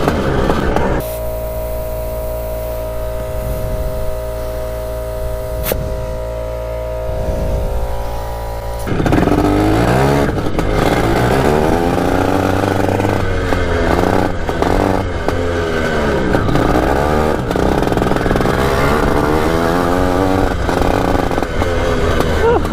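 Old three-wheeler left sitting outside for years, its engine idling with a steady low drone, then revving up and down with rising and falling whine and rattling, loud and close.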